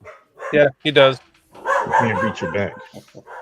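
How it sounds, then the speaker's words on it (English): A dog gives two sharp, loud barks close by, and then someone talks over the quieter room. "That's my dog barking"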